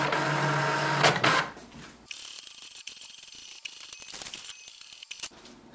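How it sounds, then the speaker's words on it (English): HP Envy 6030e inkjet printer printing an alignment page: close mechanical whirring and paper feed, then lighter shuttling and ticking of the carriage with scattered clicks, no voices. "wait for the printer to print a page"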